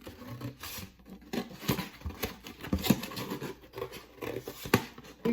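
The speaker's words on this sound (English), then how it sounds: "For the first step, you will need your paper plate and scissors." Scissors snip through a paper plate up close, giving uneven crisp cutting and rustling scratches at a moderate level, with no voices heard.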